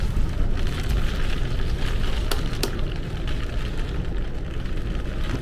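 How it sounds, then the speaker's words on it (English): Heavy wind-driven rain lashes a boat's rear awning during a storm with gale-force gusts, a loud, steady roar of rain and wind noise throughout, with a couple of brief sharp bursts midway. "the wind is driving the rain"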